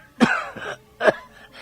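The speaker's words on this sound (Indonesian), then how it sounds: "batukku mulai terasa lagi" Two harsh coughs from a man playing an aged father in an Indonesian audio drama, close and fairly loud, with a softer rasping exhale after the first and a faint breathy tail at the end.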